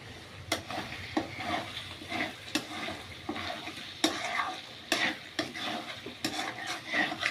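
Mutton cooking in oil in a pot, stirred with a metal spoon: rhythmic scrapes and clinks against the pot over a soft continuous sizzle, close and fairly quiet, with no talking.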